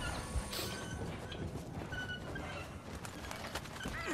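A steam train in Red Dead Redemption 2 rumbles steadily and fairly loudly, a dense continuous roar with faint clopping hoofbeats mixed in and no talk over it.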